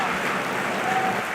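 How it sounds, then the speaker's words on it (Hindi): Dense, sustained applause from a seated audience at a Hindi poetry recital, a steady wash of many hands clapping at once with no single voice standing out. "एक बार योगिता चौहान के लिए जोरदार तालियां बजाइए"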